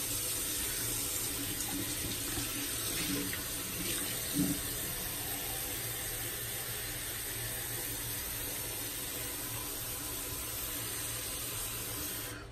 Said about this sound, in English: So let me fill up my mug here with some warm water.